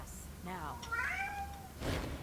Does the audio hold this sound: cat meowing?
yes